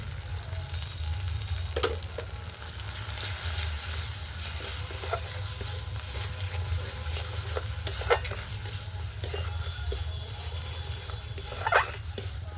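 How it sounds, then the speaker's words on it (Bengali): Turmeric, chili powder and salt frying and being stirred in a pan for a rohu fish curry with eggplant; continuous sizzling with soft spoon scraping and a couple of sharper clinks, no voices over it. "ভালো করে কষিয়ে নেব।"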